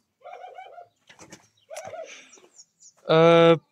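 Soft turtle doves coo in short phrases close by, with a few scattered chirps and rustles, ending in a louder, drawn-out coo.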